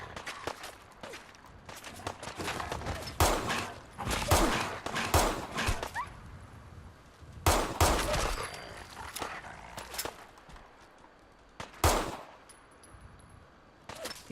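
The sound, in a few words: gunshots in Fallout 4 video game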